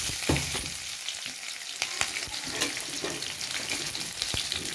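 Garlic and onions frying in a pan for a Telugu dal, a continuous crackling sizzle with sharp stirring clatters scattered throughout, heard close and without speech.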